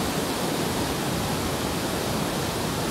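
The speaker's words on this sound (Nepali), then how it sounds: "हेर्नुहोस् न यो बुटोलको बाढी।" Floodwater in Butwal rushes past as a dense, unbroken roar, loud and steady throughout with no pauses or other sounds breaking through.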